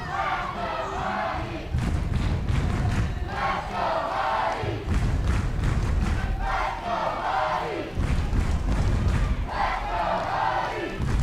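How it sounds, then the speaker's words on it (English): A crowd at a Little League World Series baseball game stomps their feet in heavy rhythmic bursts and chants together. The loud pulses repeat steadily, several thumping waves in a row, filling the stands. "Crowd stomping their feet and chanting"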